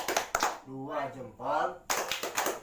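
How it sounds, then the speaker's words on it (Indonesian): A group claps out the rhythmic 'tepuk mantul' routine, with bursts of sharp, quick claps at the start and end broken by a voice chanting a counting phrase in between. "Kita beri tepuk mantul buat kelompok 2. Tepuk mantul."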